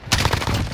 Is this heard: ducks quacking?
no